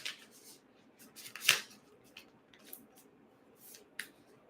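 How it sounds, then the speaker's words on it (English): A deck of cards being shuffled at a tabletop psychic reading, giving soft riffling bursts and sharp snaps scattered across a few seconds, close and fairly quiet. "I'm shuffling the cards here"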